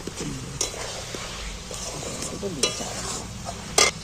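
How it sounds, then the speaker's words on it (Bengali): Eggs stir-fried with spice masala in a pan, a steady close sizzle broken by repeated scraping strokes of a spatula and a few sharp clinks against the pan, with no talking. "ডিমটা দিয়ে ভালো করে আরেকবার কষিয়ে নিচ্ছি"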